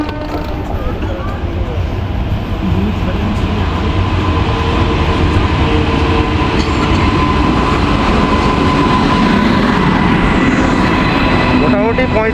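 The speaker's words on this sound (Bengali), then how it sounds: "মোটামুটি 45 মিনিট লেট করে ঢুকছে 13046 আমাদের মৌরাক্ষী এক্সপ্রেস।" The 13046 Mayurakshi Express rolls into Sainthia station running late, a loud, sustained rumble of wheels and rail cars with rhythmic clatter, horn-like tones and station chatter mixed underneath.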